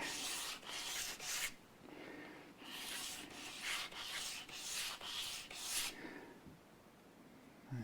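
Hand sanding on a part for an Epiphone Les Paul Junior guitar setup, with quick repeated rubbing strokes in bursts, close and fairly quiet, with short pauses between sets.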